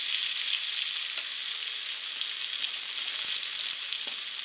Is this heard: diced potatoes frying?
yes